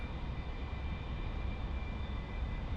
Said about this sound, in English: here we are rolling down the runway in our A4E